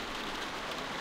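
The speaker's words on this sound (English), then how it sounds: "We're sitting out in the rain like a damn deer." Steady rain pours down outdoors near a barn in The Walking Dead: The Telltale Definitive Series video game, a close, even hiss of drops with no voices.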